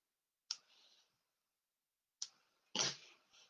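Scissors trimming the ends of a ribbon bow: three sharp, close, quiet snips spaced apart, the last one fuller and longer, with silence between.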